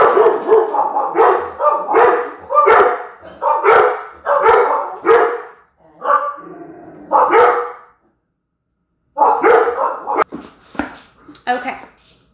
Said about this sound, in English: That's what the dogs were barking at.